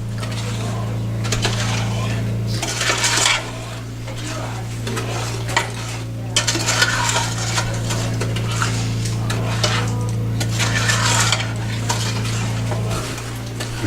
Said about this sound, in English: we're going to stir it up really good so it's all mixed good